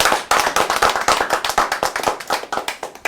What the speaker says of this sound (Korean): 우리 격려의 큰 박수 또 한번 보내주세요